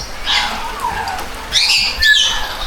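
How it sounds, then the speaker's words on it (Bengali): Parrots and cockatoos in a safari park aviary let out a few harsh, close squawks and chirps in short bursts over quiet background noise. "এখানে অনেক ধরনের পাখি, টিয়া, কাকাতুয়া"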